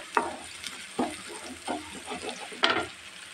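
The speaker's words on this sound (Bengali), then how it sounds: "তেল গরম হয়ে গেছে, এখন আমি পেঁয়াজটা দিয়ে দিলাম, একটু লাল করবো।" Chopped onion frying in hot oil for a papaya stir-fry, a continuous close sizzle punctuated by four distinct scraping stirs spaced about a second apart.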